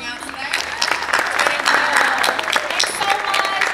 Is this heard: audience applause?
yes